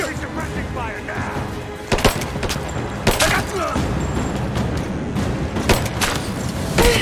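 Gunfire in the video game Rise of the Tomb Raider, set in Syria: repeated shots and fusillade-like bursts with booms and crashes throughout, loud and close, while voices shout over the battle.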